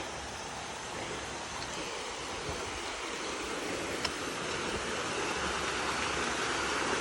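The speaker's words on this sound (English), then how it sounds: "Here's our first little waterfall." A small waterfall in a canyon in Amed, Bali, making a steady, continuous rush of falling water heard at a moderate distance with no voices.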